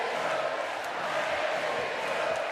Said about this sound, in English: Gives the French crowd time to sing and encourage them